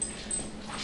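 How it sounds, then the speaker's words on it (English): A dog whimpers and gives a small yip, one short, faint, close sound on its own. "What are you doing, dog? It's running all over the place."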